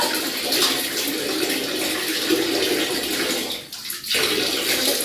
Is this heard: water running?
yes